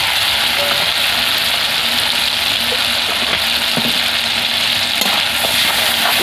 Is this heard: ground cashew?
yes